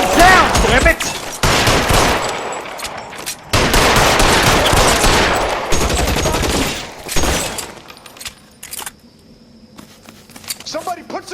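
Gunfire in the video game L.A. Noire: rapid bursts of shots and broadband blasts through the first eight seconds, loud and dense, easing into quieter ambience and scattered small sounds toward the end.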